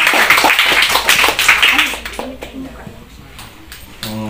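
Applause for presidential candidates at a school's mock election. A burst of quick, close clapping runs for a couple of seconds, then gives way to voices talking.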